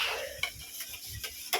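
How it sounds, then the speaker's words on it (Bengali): Spoon stirring a pot while cooking an egg curry at home, with a few sharp scraping knocks against the pan and a faint sizzle between strokes, close and without talk. "তো এবার নাড়ছে, নাড়তে নাড়তে তেল উঠেছে,"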